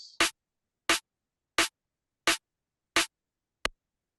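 Layered drum-and-bass snare samples playing together: six punchy, evenly spaced hits with a sharp attack and short tail, sounding alone without any other instruments.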